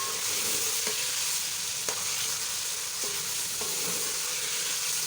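Masala with tomatoes frying for aloo matar pulao, a steady close sizzle with a few soft stirring clicks and scrapes throughout.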